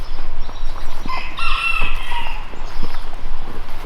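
Chickens foraging through a homestead compost pile, with a rooster crowing mid-clip over steady background clucking and scratching, close and moderately loud, with no talking.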